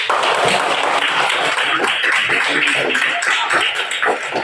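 Students in a school classroom clap their hands together at a teacher's request during a morning lesson, a dense, steady burst of many overlapping claps lasting several seconds at an even level.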